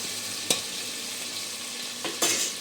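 Tomatoes cooking in a pan for a homemade jigri dish, a steady low sizzle with a couple of brief scraping stirs, close and alone without talk.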